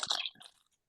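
Crunchy crisps are bitten and chewed close to the mic in one brief, crackling crunch that quickly fades to silence.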